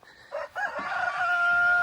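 A rooster crows close and loud in a backyard coop with hens, a short clipped start rising into a long sustained cock-a-doodle-doo call that holds to the end.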